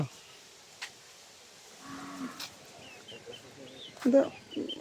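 A cow lows once or twice at moderate distance on a small farm, with birds and a chicken faintly in the background and quiet human voices nearby.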